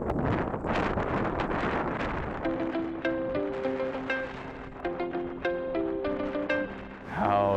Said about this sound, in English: it got pretty windy towards the end